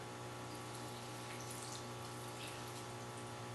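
Water mixed with yeast and sugar pours steadily into a mixing bowl while making homemade pizza dough, a soft, continuous faint splashing rush heard alone and close.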